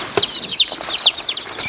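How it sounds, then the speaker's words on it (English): Hens in a barn on a cold, rainy homestead morning give several sharp, fairly close clucks in an uneven rhythm, with a few other birds muttering quietly behind them. "Look at all these hens."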